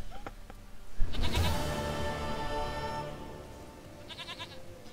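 A goat in The Witcher 3 gives a loud, close, wavering bleat that fades out, followed by a second fainter bleat near the end.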